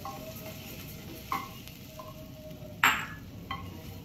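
Onions and green chillies frying with horse gram in a cooker: a low steady sizzle, close, broken by a few sharp metallic knocks of a spoon against the pot, the loudest near the end, with no one speaking.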